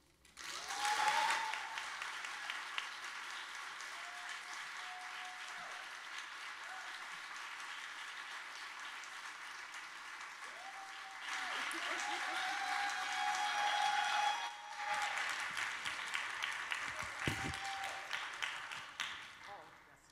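A festival audience at the 2023 World Voices Festival closing night breaks into loud applause in two swelling bursts, with a voice speaking over the clapping and in the quieter stretch between.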